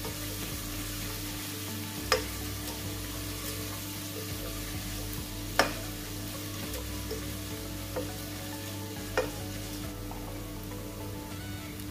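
Curry leaves fry in hot oil for a Kerala-style mackerel curry with coconut milk, giving a steady close sizzle with a few sharp pops and crackles spread through.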